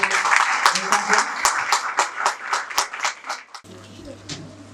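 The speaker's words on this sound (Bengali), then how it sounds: "আমরা সকলে জোরে হাত তালি" Church congregation at a Sunday service clapping for the pastor, rhythmic hand claps from many people in a steady beat for several seconds, ending abruptly into a low hum.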